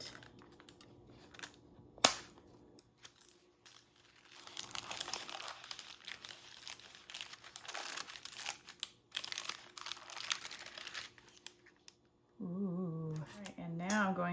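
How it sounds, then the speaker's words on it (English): Plastic or foil wrapping crinkles and rustles close by as a homemade traditional Christmas pudding is unwrapped, with a sharp snap early on and a person's voice near the end. "I'm going to unwrap this little present of goodness."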